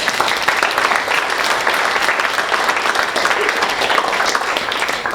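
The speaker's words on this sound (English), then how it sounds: "Let's give a round of applause to our volunteers." A high school psychology class audience claps for volunteers, a loud, close, continuous round of applause lasting several seconds.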